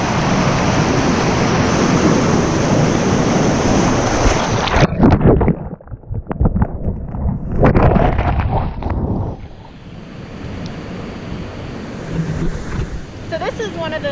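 Water rushes at a side pool of Uvita Waterfall in Costa Rica, a loud steady roar of falling and churning water that cuts out and shifts as the recording moves.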